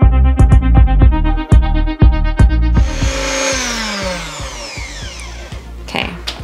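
A cocoa mixture for a keto chocolate pudding is whisked hard in a bowl, first as a rapid train of sharp utensil clicks against the bowl, then as a steadier, smoother scraping swirl. The sound is close and loud, and no one talks.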